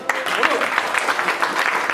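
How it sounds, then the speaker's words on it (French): Audience applause at a gathering, honouring the treasurer, a short burst of steady clapping with a voice speaking over it. "Je voudrais que tout le monde l'applaudisse"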